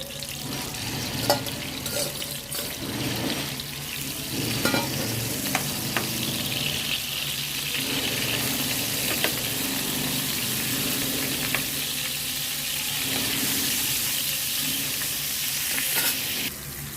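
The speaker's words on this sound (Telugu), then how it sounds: "చేప ముక్కలు ఫ్రై అవుతున్నాయండి." Salted fish pieces fry in hot oil in a kadai, giving a continuous close crackling sizzle with occasional sharper pops and no voices.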